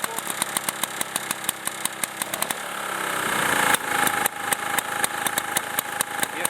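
A Super Bagger lawn mower's small engine runs close by with a fast, even putter, briefly revving up before settling back into a steady, well-tuned idle.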